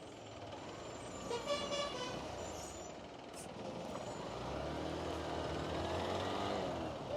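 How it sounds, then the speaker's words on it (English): A bus passes on a busy Indian road through the town of Shivamogga, with a heavy engine rumble, a short horn toot and an air-brake hiss over steady traffic noise. "Oh, wait for the bus."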